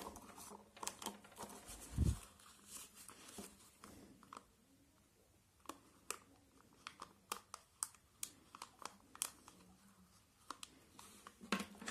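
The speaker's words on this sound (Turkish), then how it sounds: "Bunun üzerine bir bulut çiziyorum." A felt-tip pen draws a cloud on paper, with faint, soft scratching strokes and light taps in an irregular rhythm, close and quiet, and one brief low thump.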